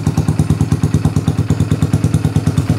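Close, loud idle of a Kawasaki W175 SE motorcycle with a Sniper aftermarket exhaust, a deep, steady, evenly pulsing thump with a slight mechanical clatter and no talking.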